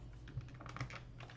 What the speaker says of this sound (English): I'm typing into the chat for the thing.